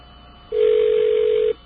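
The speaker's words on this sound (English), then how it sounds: "that's a distinctive WBAI ring right there" A telephone line carrying a long-distance call to radio station WBAI gives a single steady ring tone lasting about a second, clean and fairly loud against a faint hum.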